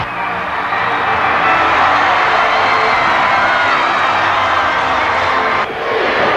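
A crowd at an Indiana high school basketball game applauds and cheers in a loud, sustained roar of clapping and shouting, ending in a short dip before the noise resumes.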